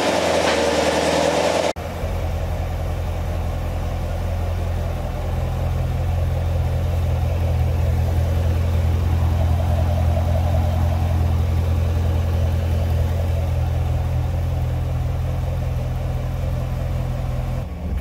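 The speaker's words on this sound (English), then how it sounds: "you want to run the engine for a few minutes here just to warm up the oil" A Corvette Z51 dry-sump engine idles steadily during an oil warm-up, a loud, even low rumble that runs unbroken for the whole stretch after a brief louder opening moment, with no talk.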